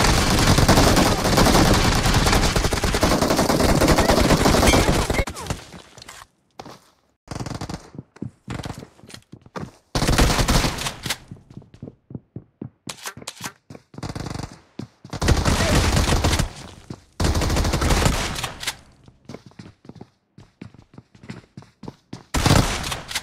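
Rapid automatic gunfire fills a shooting video game match, a dense sustained burst at first, then choppy clusters of shots and short pauses, with further loud volleys recurring throughout.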